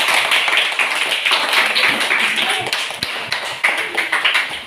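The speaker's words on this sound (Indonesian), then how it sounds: "Dan kita memberi apresiasi kepada kelompok B. Kita tepuk tangan." A group of students claps together in a classroom after a group's presentation, with dense, fairly loud hand claps and irregular taps running steadily, close and without talk.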